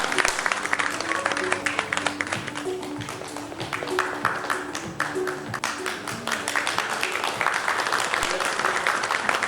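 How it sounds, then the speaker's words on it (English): Audience applause for an honoree at an awards ceremony, a dense, sustained wash of clapping from a large crowd that holds steady throughout, with tonal music playing underneath. "Let us have a big round of applause for Dr. Sri Parimala Alamuri"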